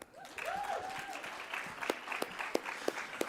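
Applause at a scholarship awards ceremony, a moderate spread of clapping that comes in soon after the start and thins out, with a few louder, sharper claps standing out near the end. A brief whistle-like tone rises early on.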